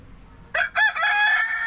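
A rooster crows nearby, a loud drawn-out call that rises after a short opening note, standing alone against quiet background.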